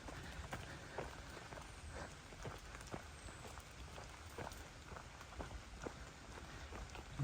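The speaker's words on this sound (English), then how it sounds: "It's actually raining, but not much is getting to me because of the tree cover." Soft, steady patter of rain on leaves, falling through tree cover, with scattered drips tapping nearby and no voices.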